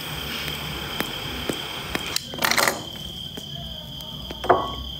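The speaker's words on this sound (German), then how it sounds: "Hörst du grillen? Ist das Bose-System." Crickets chirp steadily through a speaker system in a quiet room, a continuous high trill with a few faint clicks and rustles and a brief louder burst near the middle.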